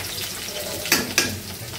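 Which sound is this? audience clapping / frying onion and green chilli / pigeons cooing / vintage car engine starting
frying onion and green chilli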